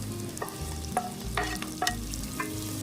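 Onions frying in a pan for egg biryani, with steady sizzling under repeated stirring clatters of a spoon against the pan, close and moderately loud.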